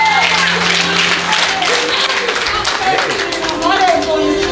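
A church congregation at a prophet's service breaks into sustained, loud applause, dense clapping running steadily through the whole stretch with a murmur of voices mixed underneath.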